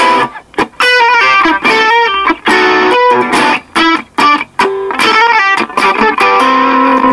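Loud electric guitar chords played through a NUX Mighty Air amp with reverb and delay off, a dry tone, strummed in bursts with brief gaps between phrases; a faulty guitar volume control crackles.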